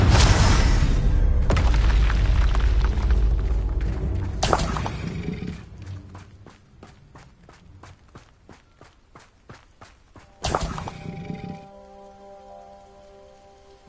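Confringo fire spells explode in Hogwarts Legacy as loud, sharp bursts: one large blast at the start, further booms a few seconds apart, then crackling, ticking debris and a final blast near the end.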